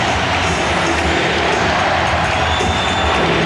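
A packed basketball arena crowd roars without letup during a Pacers playoff game against Chicago. The cheering is loud, dense and sustained across the whole stretch, with no clear individual voices.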